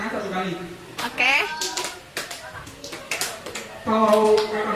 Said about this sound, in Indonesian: tepuk tangan 1 kali